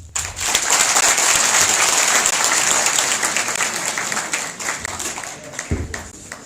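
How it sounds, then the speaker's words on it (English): Audience applause fills a university inter-faculty convocation debate hall, loud and sustained for several seconds with some cheering texture, then thinning toward the end. "Once again, a round of applause for Sulaiman Abdullah."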